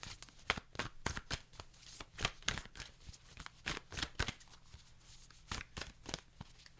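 A Nature's Whispers oracle deck is shuffled close by, making a steady stream of soft, rapid card flicks and slaps, fairly quiet, with no voices.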